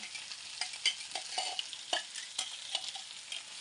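Chickpea greens dropped into hot oil and stirred, giving a continuous sizzle broken by repeated sharp scraping and stirring knocks at close range, with no voices.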